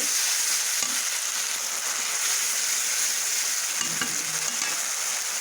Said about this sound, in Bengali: এবার দেবো আমি টমেটো পিউরিটা, এটা ভালো করে আমি ভেজে নেব।